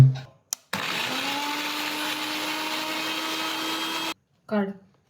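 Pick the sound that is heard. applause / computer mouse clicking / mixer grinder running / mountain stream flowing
mixer grinder running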